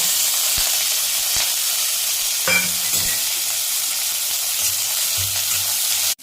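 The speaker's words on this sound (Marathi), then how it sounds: "कढई तापलेली आहे, त्यात मी 2 चमचे तेल टाकते बोंबील फ्राय करायसाठी" Bombay duck (bombil) frying in about two spoons of hot oil in a heated kadhai, a continuous loud sizzle with occasional sharp pops and clicks from the pan, close and without speech.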